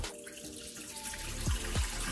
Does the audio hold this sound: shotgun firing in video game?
no